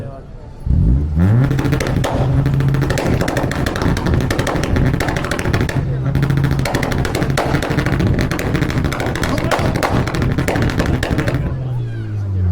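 A car with a 1.5-litre engine at a stance car meet in Šurany has its exhaust loudness measured, and it backfires like gunfire: a loud, close, rapid chain of sharp cracks and pops over a revving engine, lasting about eleven seconds.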